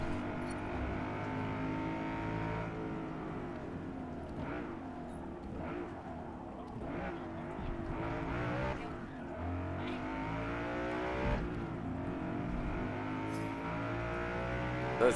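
BMW M3 GTR race car engine in Forza Motorsport, a steady high-revving drone with shifting pitch through gear changes and occasional tire noise, continuous and moderately loud.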